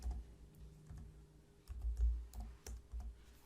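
Quiet keystrokes on a computer keyboard, a brief irregular run of soft clicks and taps with a low hum underneath, close and faint.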